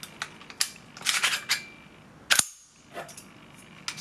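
A GBLS DAS GDR 15 airsoft gun fires several sharp, separate clicks and snaps at uneven spacing, fairly quiet and close, with one louder crack near the middle.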